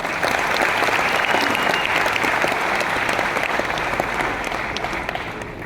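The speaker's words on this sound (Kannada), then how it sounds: "ಜೋರಾಗಿ ಚಪ್ಪಾಳೆ ಅವರಿಗೆ" An indoor audience claps loudly and continuously for a speaker who has just been introduced, a dense, even wash of applause that fades slightly toward the end.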